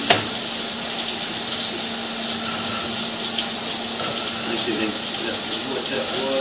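Water flowing steadily through an underground sewer pipe with a small belly, a continuous loud rushing and gurgling wash that stays even throughout.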